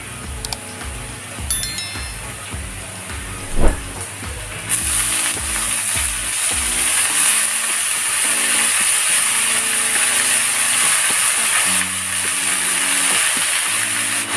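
Kolmi shak greens dropped into a kadai of hot mustard oil with fried onion, chilli and garlic, clattering stirs at first, then a bright steady sizzle swelling and holding to the end, no talk.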